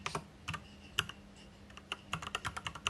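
Keys clack on a computer keyboard in quick, irregular bursts of close, crisp taps with short pauses between, heard alone with no talk.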